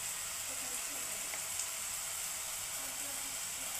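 Mushrooms with salt frying in a pan for a homemade Andhra-style curry, giving a steady, even sizzle and hiss throughout.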